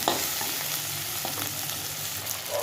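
Chopped tomato and spices frying in a pan for a tilapia fish curry, a close, continuous hissing sizzle with occasional stirring scrapes, and no voices.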